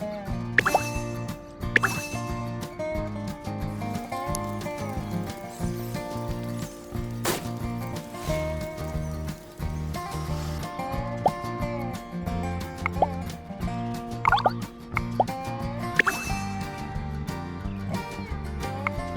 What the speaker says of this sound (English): I'm just gonna take a long drink from this water droplet here